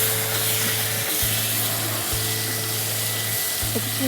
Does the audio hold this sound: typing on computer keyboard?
no